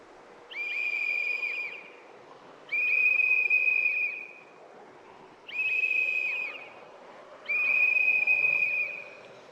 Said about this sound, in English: Sorry for the painful whistling noise, but I think I need to keep actively whistling